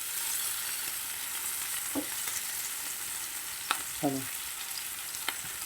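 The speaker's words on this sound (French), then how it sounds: "Alors je retourne de côté pour que mes oignons vont cuire." Onions and shallots fry in a pan with a steady, close sizzle and a few soft stirring clicks, while a voice speaks briefly near the end.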